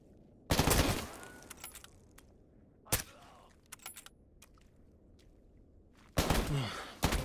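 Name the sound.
gunfire in video game S.T.A.L.K.E.R. GAMMA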